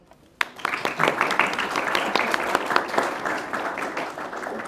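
Audience at a Cursor tech meetup in Curitiba bursts into applause after a brief quiet start, steady dense clapping continuing near and loud to the end.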